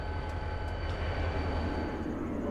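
A train rolling past near a former DT&I passing siding at Tremont, Ohio, a loud continuous rumble and roar with steady low-end drone, close by and unbroken throughout.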